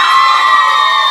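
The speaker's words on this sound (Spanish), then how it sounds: "Aplauso para Saúl." An audience at a clown show cheers loudly for a girl, a steady, dense wall of shouting and whooping voices, close and sustained throughout.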